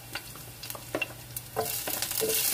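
Garlic and ginger fry in a little oil in a pan, a soft sizzle with scattered light stirring clinks and scrapes, all fairly quiet and close.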